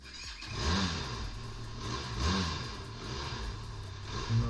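A Benelli TRK 502 or Xpulse 200 motorcycle engine starts and idles with a steady low putter, the revs swelling a couple of times before settling back.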